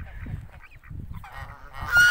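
Geese in a small backyard garden give several short, nasal honks in a loose irregular series, close by, with a louder burst at the end.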